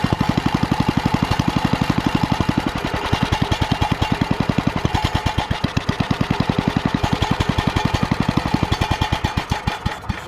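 A Troy-Bilt tiller cultivator engine runs steadily with a loud, fast, even chugging pulse close by, held on choke and sounding fuel-starved, with no speech over it.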